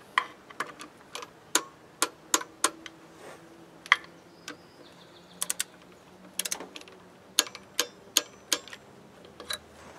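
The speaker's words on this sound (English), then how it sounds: "now I'm just going to get a 25Nm on those bolts" Sharp metallic clicks of a ratchet wrench tightening the bolts on a VE diesel injector pump to 25 Nm, irregular bursts of close ticking with short pauses between them, no talking.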